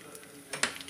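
Fenugreek, cumin and coriander seeds frying in a pan for a ridge gourd chutney, giving a soft steady sizzle with a few quick stirring scrapes and light clicks of seeds against the metal.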